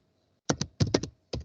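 Keys on a computer keyboard are typed in three short bursts of quick, close clacks separated by brief silent pauses, in a quiet room with no speech.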